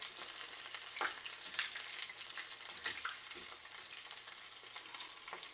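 Chicken pieces frying in oil for sweet chili chicken, a continuous faint crackling sizzle with scattered pops and occasional soft stirring knocks, heard alone without talk.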